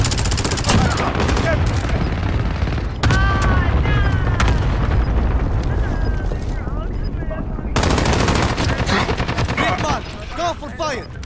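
Loud, dense video game combat from a friendly cluster strike: rapid machine-gun bursts and booming explosions fill the whole stretch, with radio-style voices talking over the barrage.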